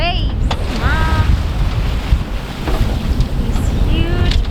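Sea waves slap and rush against a boat passing Hydra Island, set under heavy wind buffeting the microphone and a steady rumble, with a few brief bird-like chirps over the continuous wash.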